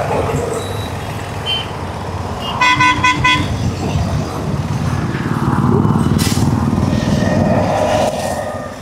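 Road traffic rumbling past with a loud vehicle horn sounding in a rapid burst, engines and tyre noise swelling and fading nearby, with someone speaking briefly over it.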